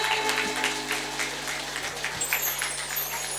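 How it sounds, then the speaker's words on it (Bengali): An audience claps hands in steady rhythm during a Bengali bhajan performance. The repeated claps come in regular beats over sustained musical tones, at moderate loudness throughout. "একটু জোরে জোরে হাততালি দিন দেখি।"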